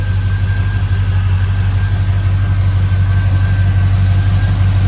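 A 1972 GMC Jimmy's engine idles steadily up close, a loud, even low rumble with a faint whine above it and no voices.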